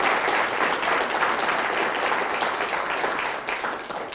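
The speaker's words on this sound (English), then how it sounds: "give our three speakers a warm round of applause" An audience at a breakfast briefing applauds three speakers, a dense, sustained wash of clapping from many hands that stays strong before tapering slightly at the end.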